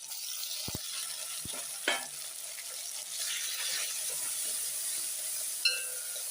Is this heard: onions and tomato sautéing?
yes